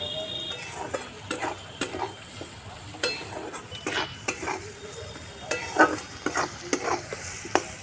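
Onions are stirred and fried in a pan for an egg curry with taro. A soft sizzle runs underneath frequent clattering scrapes and knocks of a spatula against the pan, close and irregular, with no speech.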